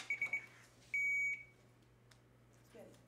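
Electronic quiz buzzers ring out in a test: a quick triple of short beeps, then one longer sustained tone, followed by quieter room noise with faint movement.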